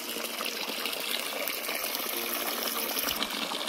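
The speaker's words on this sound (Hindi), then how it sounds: "ठंडा ठंडा पानी आ रहा है नल से" Cold water pours steadily from a tap at home, a continuous close hiss and splash with no pause and no voices.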